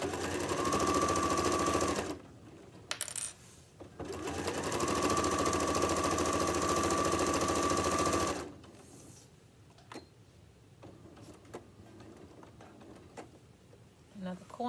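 A sewing machine stitches a tote bag in two long, loud, steady runs separated by a brief pause for pivoting at a corner, followed by quieter fabric handling.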